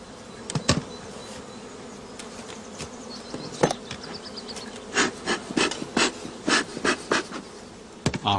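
Honeybees buzz around hives at an apiary beside allotment gardens during a spring inspection, a low steady hum with several close bees flying past in short, louder drone bursts.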